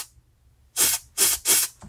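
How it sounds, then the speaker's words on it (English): Carburetor cleaner sprayed from an aerosol can onto a lawn mower carburetor: three close, loud hissing bursts about a second apart, the last one shorter, with no talk. "And then spray that guy with some carb spray."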